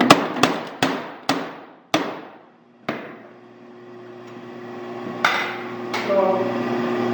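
A Little Giant power hammer forging metal delivers a series of sharp, heavy blows at a steady rhythm, each one ringing out and decaying before the next; they stop and leave a low motor hum with a couple of later clanks.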